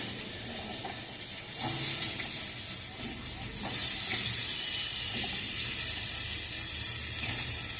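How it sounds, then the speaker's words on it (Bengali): Potatoes fry in a pan over a gas stove, a steady low sizzle with occasional stirring scrapes and rustles running continuously at a moderate distance. "এবার আমি আলুগুলিকে ভাজবো।"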